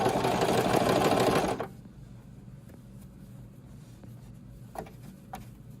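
A sewing machine stitches the hem of a denim jumpsuit, running as a fast, loud whirring buzz for over a second before stopping, leaving a quiet hum with a few faint clicks.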